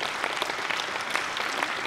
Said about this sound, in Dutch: Even een applaus, ja.